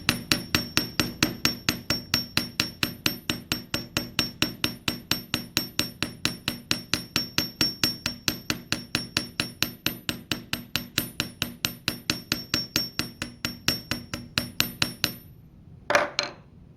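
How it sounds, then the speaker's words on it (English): Rapid, evenly spaced metallic hammer taps flatten copper wire, ringing out nonstop for about fifteen seconds, close and crisp, then stop, followed by a brief clink. "And you want to hammer it just so that it flattens out the wire just a little bit."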